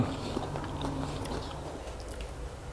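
Someone bites into and chews a soft, sweet Thai steamed dessert shaped like a Thai melon. The moist, muffled chewing is heard up close against a constant background hiss, with no talking.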